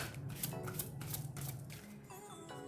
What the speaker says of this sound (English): let me shuffle this a little bit more.